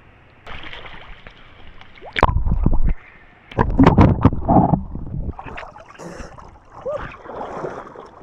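A person bathes in a cold river during a bikepacking trip in Laiban, Tanay, Rizal, with loud bursts of splashing and churning water in two main spells between quieter gurgling and wind noise, close to the microphone.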